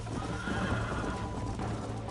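A horse in the Red Dead Redemption video game on PS5 gives a loud, close whinny over the clip-clop of its hooves, heard alone without voices.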